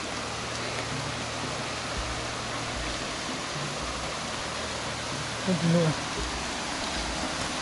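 The Cascata das Furnas waterfall near Vila Nova de Milfontes, Portugal, gives off a steady broadband rush of falling water. Someone speaks briefly over the constant roar partway through.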